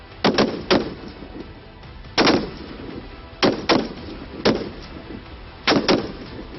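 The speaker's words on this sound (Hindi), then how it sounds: "काउंटडाउन खत्म होते ही राइफल से निकलती ताबड़तोड़ गोलियों ने टारगेट को पलक झपकते ही ध्वस्त कर दिया" Rapid rifle shots fired at a target during a mountain warfare drill by soldiers at 14,000 feet in minus 10 degree cold. Sharp, loud cracks come in quick pairs and bursts, with short pauses between the volleys.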